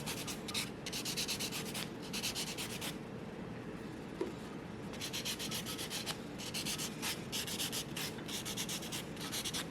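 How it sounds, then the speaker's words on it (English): A nail buffer roughening fingernails before gel polish goes on, a steady close-up scratchy rubbing in rapid back-and-forth strokes, continuous for several seconds with brief breaks. "I also have these little files or buffers that you can kind of roughen up your nails just a little bit."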